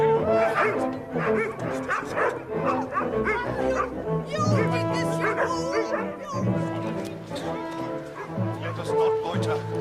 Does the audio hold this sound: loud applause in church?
no